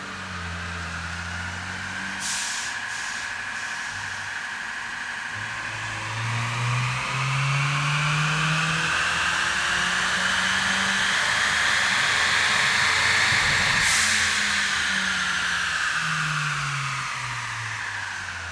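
A 2015-2022 Ford Mustang EcoBoost with a front-mount intercooler on a dyno, the engine droning and rising steadily in pitch through a full pull, loud and continuous, then easing off near the end.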